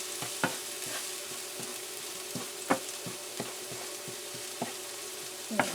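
Garlic and onion sizzling and being stirred in a pan, a steady low frying hiss broken by occasional sharp clicks of a spatula against the pan, fairly quiet and with no voices.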